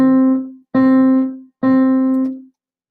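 Three evenly spaced piano notes on the same pitch, each struck and left to ring before decaying, played alone at a steady beat.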